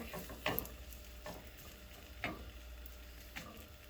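Roti cooking on a hot tawa greased with a butter and oil mixture, a faint soft sizzle broken by a few scraping, stirring-like touches at irregular intervals, close and quiet.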